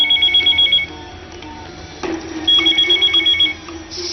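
A telephone rings in a Bhojpuri film scene with two bursts of rapid, warbling electronic trills separated by a short pause, loud and clear over a quiet background.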